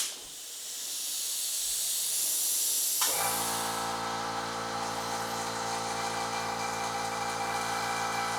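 An air hose fills a dirt bike tire on a Kawasaki KDX 220 rim. After a few quiet seconds, a loud steady hiss of rushing air starts abruptly and continues without a break.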